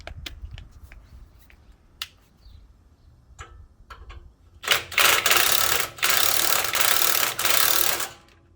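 A ratchet tightens a ball joint on a 2006 Ford E-150 van, giving quick clicking bursts close by. Scattered single clicks come first, then dense, loud runs of rapid ratcheting in the second half.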